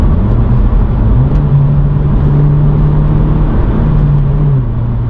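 Loud, steady drone of a car engine idling with a straight-piped exhaust, a deep rumbling tone holding close and constant with slight shifts in pitch, no voices over it.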